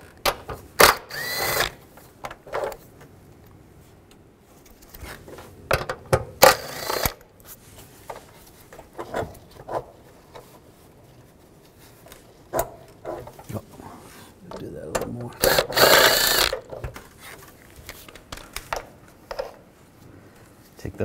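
A socket ratchet with a 10 mm socket clicks in short bursts while removing two bolts on a 2010–2017 Chevrolet Equinox during a water pump replacement, with brief louder mechanical clatter between pauses and no talk.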